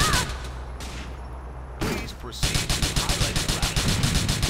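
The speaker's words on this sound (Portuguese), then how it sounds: "Ah, tiro, dá tiro." Bursts of rapid gunfire crackle in quick, rhythmic volleys in GTA IV multiplayer, with a brief lull before the shooting resumes and continues loudly.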